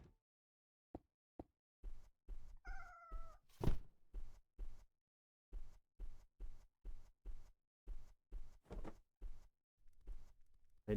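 Cat meowing in the horror game Cineris Somnia, one clear tonal meow standing out amid a steady series of soft thudding footsteps in an otherwise quiet scene.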